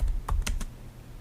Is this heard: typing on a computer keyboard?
yes